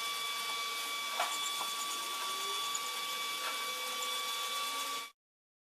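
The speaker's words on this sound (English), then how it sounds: "Okay, so we just got some 180 on a small block here. We're going to block this in an X pattern." Sanding a metal body panel with 180-grit paper on a small block in an X pattern before filler, a steady soft abrasive hiss that holds evenly for about five seconds and then cuts off, with no talking.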